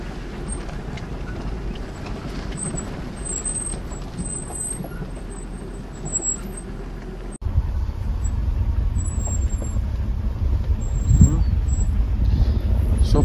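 A car stuck in mud in the village of Kakliani, Georgia, being pulled out: a steady low engine and vehicle rumble that grows heavier and louder in the second half, with voices talking over it.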